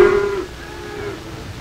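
Beef cattle in stock pens give one low, drawn-out moo right at the start, fading within half a second into a quieter murmur of pen noise with no speech.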